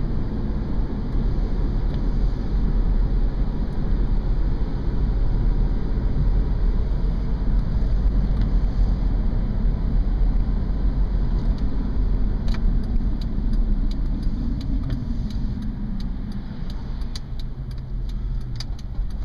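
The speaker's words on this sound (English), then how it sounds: "The vehicle tracks nice and straight going down the road." A truck drives straight down the road, its engine and tire roar steady and loud throughout from inside the cab, with faint light rattles and clicks toward the end.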